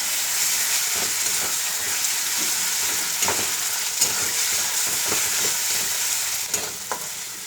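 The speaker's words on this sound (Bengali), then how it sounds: "আদা বাটা দিয়ে দিয়েছি একটু নাড়াচাড়া করবো" Ginger paste sizzles and fries in a hot pan while a spoon stirs it, the steady hiss carrying throughout, broken by scattered scraping and clinking strokes.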